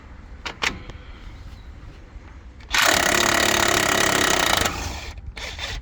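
Impact wrench removing the 22mm outer tie rod nut on a Nissan Xterra, a loud buzzing burst lasting about two seconds after a few light clicks and knocks.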